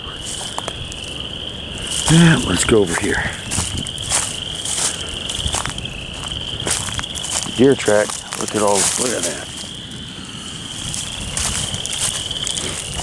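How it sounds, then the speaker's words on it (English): Frogs call near a swamp: a steady, high, trilling chorus runs the whole time, under footsteps crunching through brush and people talking nearby. "more frogs, which means we're getting closer to some swampiness."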